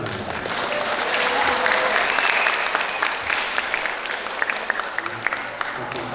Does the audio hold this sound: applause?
yes